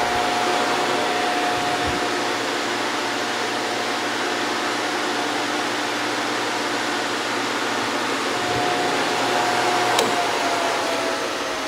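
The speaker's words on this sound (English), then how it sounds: "We're going to go ahead and start the machine. It does have forward and reverse." A 2002 SCMI T130 wood shaper with a three-roll power feed runs forward with a steady, loud broadband whir and hum, a faint tonal whine and a couple of soft knocks, with no talking.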